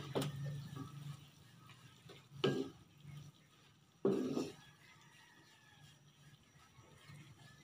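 Pork adobo with camote tops stirred in a pan after a minute under the lid: three separate scraping stirs over a quiet, low sizzle, close by, with pauses between them.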